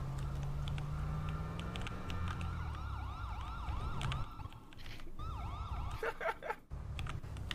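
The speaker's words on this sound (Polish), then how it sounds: "Policję słyszę." A police siren in the video game GTA V wails, sweeping up and down repeatedly, mid-distance, over road rumble and engine noise, with sharp clicks and bumps near the end.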